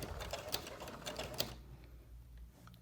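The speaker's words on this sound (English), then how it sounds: "So I'm going to do a whole row of back stitches, going over that again." Sewing machine running a row of back stitches on a quilted pot holder, a quiet rapid mechanical clatter for about a second and a half, then near silence.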